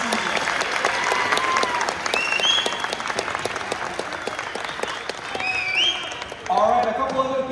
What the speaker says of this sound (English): Let's give the middle school team a good round of applause for their awesome season.